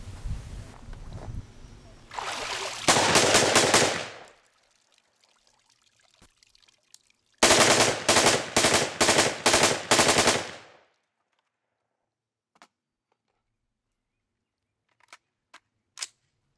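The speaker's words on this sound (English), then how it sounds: "The most extreme is the gunshot below the water surface itself that we tried out too." A FAV-AR rifle fires rapid bursts of shots into water, two loud clusters of sharp cracks with splashing, followed by a long quiet stretch broken by a few faint isolated clicks.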